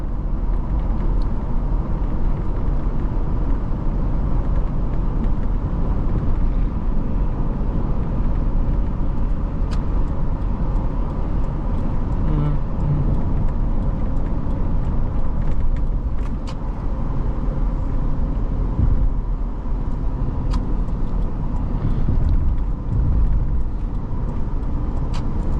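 A 2007 Toyota 4Runner cruises on the highway, its cabin filled with a steady low engine drone and road rumble, wind noise holding constant throughout with a few faint clicks.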